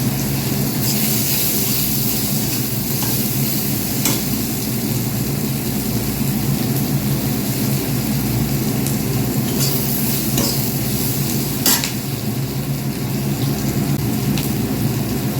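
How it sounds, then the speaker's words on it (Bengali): Chopped medium-sized onion frying in hot oil for a barramundi curry, a loud continuous sizzle with occasional sharp scraping stirs from a spatula, close up and without talk. "এই মাঝারি সাইজের পেঁয়াজ কুচিয়ে রেখেছি, এটা তেলে দিয়ে আমি ভালো করে ভেজে নেব।"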